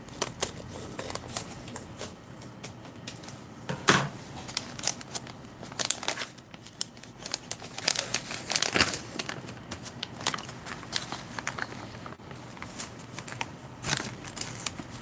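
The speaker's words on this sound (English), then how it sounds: "I'm just going to cut it open." A US halal MRE pouch of lentils in masala sauce is cut open and handled up close, giving steady crinkling and crackling of packaging with occasional sharper snips and rustles, no voices.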